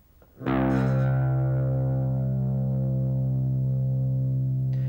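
A single low electric guitar note on the sixth string, tuned down to C, is plucked and rings out steadily, sustaining with a slight buzz for several seconds with no other sound.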